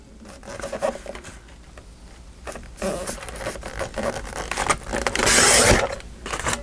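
Paper being cut for a journal pocket, with rapid close scratchy snips and rustles in uneven bursts, building to one longer loud tearing-like cut near the end, no speech.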